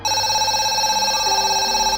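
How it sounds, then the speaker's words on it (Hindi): An old roadside telephone booth rings loud and close on a lonely highway at night, a continuous electronic ringing tone with layered steady pitches that holds through the whole stretch with no voices. "एक पुराना टेलीफोन बूथ खड़ा था जो हर रात अपने आप बजने लगता था।"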